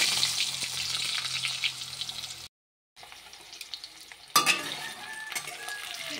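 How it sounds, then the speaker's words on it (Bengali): Cut potatoes fry in oil tempered with black cumin and a green chili for a Bengali fish curry, a moderate sizzle with stirring, broken by a brief silent gap, then a louder scrape and crackle. "আলুগুলোকে ভালো করে নেড়ে নিচ্ছি।"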